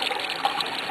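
Steady running water, like a tap or toilet flush, washing something away; a continuous close trickle with no voices over it.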